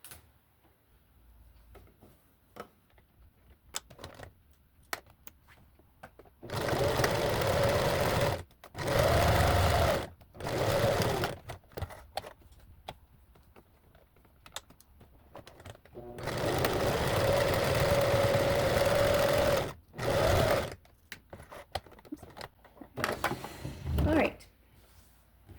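Sewing machine stitching the hemband of a sweatshirt, running in several motor bursts of a few seconds each, one longer run in the middle, with a person talking in between.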